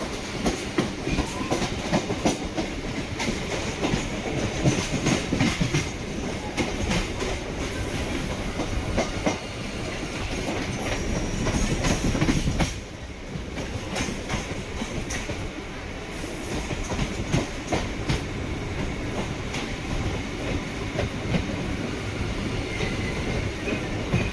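An air-conditioned EMU suburban electric train, Chennai Beach to Tambaram line, rolls steadily along the tracks, wheels clattering rhythmically over rail joints with a constant loud rumble, a short dip midway, then continuing.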